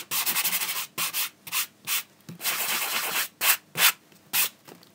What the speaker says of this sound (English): just by using the sanding block a little bit